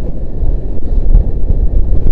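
Steady low rumbling wind buffeting a microphone, loud and continuous, with gusty swells throughout and no talking.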